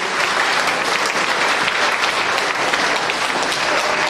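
A church congregation bursts into sustained, dense applause. The clapping stays loud and steady throughout with no speech over it.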